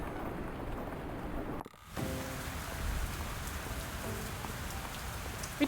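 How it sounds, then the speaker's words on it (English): Steady rain pattering on surfaces in the farming life-sim game Fields of Mistria, a soft continuous patter heard on its own with a brief dip near the two-second mark. "Dozy's expression makes it clear that he's enjoying the sound of the rain."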